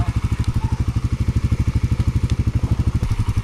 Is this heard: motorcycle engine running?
yes